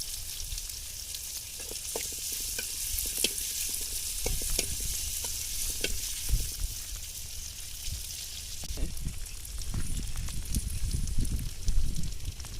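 Curry leaves dropped into hot oil alongside onions hiss and crackle loudly up close, a continuous sizzle dotted with sharp pops that swells toward the end, with no voices.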